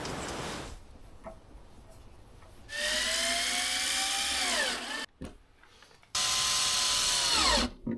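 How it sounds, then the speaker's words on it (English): A power tool whines in two sustained bursts, rising then falling in pitch, while bolting a bracket to a wall for an off-grid hydro backup power system. The sound is loud and close, with short quiet gaps and no talking. "So I just have to bolt everything together now."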